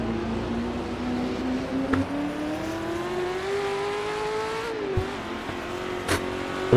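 Period 1966 sports racing cars, among them a Ferrari 206 Dino, circuit at Oulton Park during a British Sportscar Championship race, one engine note climbing steadily through the gears at moderate distance with faint crowd ambience.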